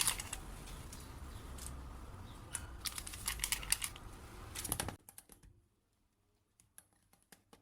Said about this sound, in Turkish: bir paket kabartma tozu ekleyerek hepsini tekrar çırpıyorum